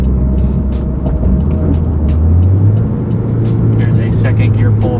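A second-generation Scion tC pulls hard in second gear from about 30 mph, its engine rising steadily in pitch with loud, continuous road rumble and no pause throughout.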